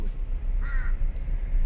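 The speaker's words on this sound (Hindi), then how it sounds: "तो ये कौवे यहाँ के कितने बड़े बड़े हैं देखिए जरा" A single crow caws once in a hilly mountain area, a short harmonic call at moderate distance over steady low background rumble and faint voices.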